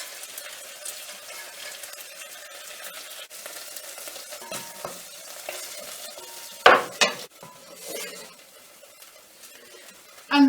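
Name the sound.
rabbit portions browning in a frying pan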